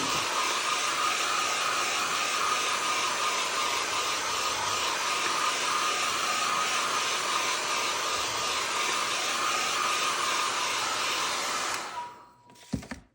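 A hair dryer blows steadily over a mixed media art page, a constant loud whooshing hiss for about twelve seconds before it switches off with a brief click and rattle.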